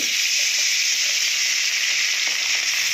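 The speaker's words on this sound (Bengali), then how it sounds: "মাছের ডিমগুলোকে ভালো করে ভেজে দেবো" Hilsa fish roe fries in oil in a kadai, a loud, dense and unbroken sizzle with a steady hissing texture that stays constant from start to finish.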